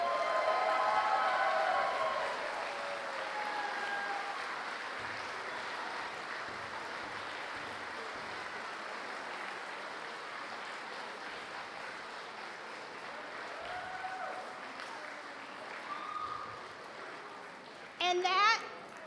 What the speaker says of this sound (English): let's give our staff, including AJ, the cheers and applause that they truly deserve